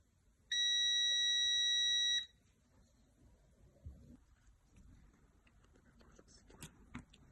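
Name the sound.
continuity tester beeping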